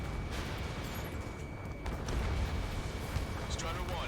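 Missile launch and explosion in a jet combat video game mission with an anti-aircraft gun target, heard as a loud, continuous roaring rumble with booming bursts that swell toward the end.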